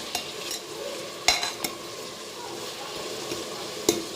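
A spoon stirs ginger-garlic paste through goat meat in a hot pan, giving a soft continuous sizzle broken by a few sharp scraping clinks against the pan, close by, with no voices.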